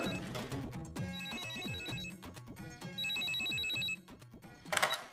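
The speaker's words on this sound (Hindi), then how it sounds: "पारो का फोन।" A phone rings with a steady electronic trill, loud and close, pausing briefly before ringing again amid background music and scattered noises.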